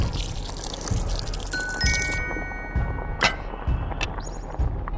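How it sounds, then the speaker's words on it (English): Boiling water poured over tea powder in a cup in the Lost Recipes VR cooking game, a steady liquid pour with splashy bursts alongside bright chiming game tones and soft clicks. "Pour boiling water over the tea powder to fill the cup"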